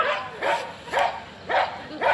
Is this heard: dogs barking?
yes